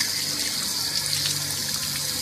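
Water gushes steadily through a Suburban hot water heater in a small Forest River camper, flushing out built-up scale. It is a continuous, fairly loud, even rush of water with no voices.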